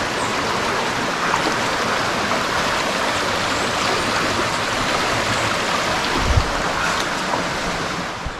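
Steady rushing stream water on a muddy trail to Rio Seco Waterfall in Salybia, Trinidad, a broad continuous wash of flowing water close by with no talk.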